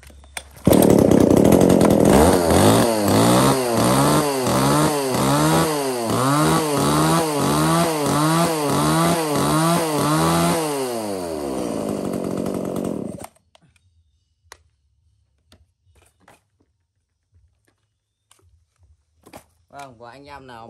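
A used Japanese-market chainsaw runs loud and close, its engine droning and revving with a rising and falling pitch for about thirteen seconds before cutting off abruptly, leaving near silence broken by a few faint clicks.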